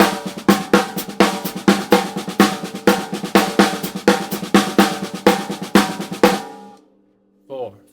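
Drum paradiddle patterns played on a kit ring out close and loud, a steady run of evenly spaced strokes with regular accents that stops abruptly near the end, followed by a short faint tail.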